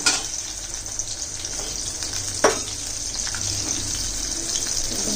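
Ingredients for a Tamil fish curry gravy sautéing in a pan, a steady close sizzle and fry with a few soft clinks of stirring, continuous and moderately loud.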